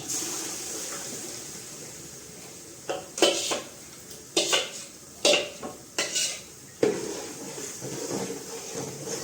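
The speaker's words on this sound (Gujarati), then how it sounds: "મિક્સ કરી દઈશું બધું" A spoon scrapes and clinks rhythmically in a pan as gravy with red chili powder is stirred, several distinct strokes over a steady background hiss, close by with no talking.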